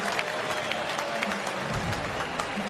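A cricket stadium crowd cheering and clapping after a six lands in the second tier, a steady roar of applause at a distance, with a commentator's voice faintly under it.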